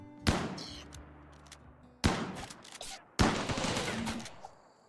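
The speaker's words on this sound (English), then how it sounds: "Turrets are doing the thing." Turrets firing during a RimWorld base defense: three sharp, loud bursts of gunfire a second or more apart, each with a booming onset and trailing rattle, over low droning background music.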